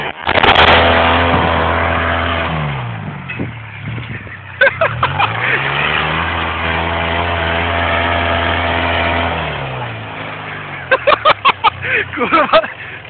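A small tractor engine idles loudly, then revs up and down in several swells, with a few sharp clunks near the end, while people talk over it.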